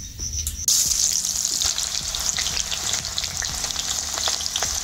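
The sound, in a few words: whole garam masala frying in oil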